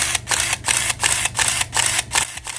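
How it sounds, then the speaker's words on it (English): Contax 137MA 35mm camera with built-in motor drive fires a rapid burst of about eight shutter-and-advance cycles in steady rhythm, each a sharp mechanical whir-clack, close and loud with no talking. "This camera is motor drive."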